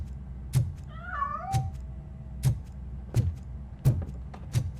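A cat in RoboCop: Rogue City gives a single drawn-out, wavering meow early on, set against heavy, evenly spaced metallic footsteps that thud through the whole stretch.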